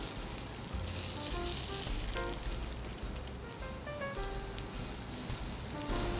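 Marinated food caramelizes in a hot pan with a dense, continuous sizzle and crackle that fills the whole stretch. Brief clinks and scrapes come through over the sizzle.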